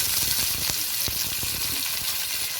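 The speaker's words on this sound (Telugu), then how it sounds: "అన్నీ లైట్గా ఫ్రై అవ్వాలి బాగా ఇలా ఫ్రై అయిన తర్వాత కరివేపాకు వేసుకోవాలి" Curry leaves and other ingredients frying in hot oil for a hotel-style Mysore bajji and peanut chutney meal, producing a continuous close, crackling sizzle with scattered sharper pops and no voices.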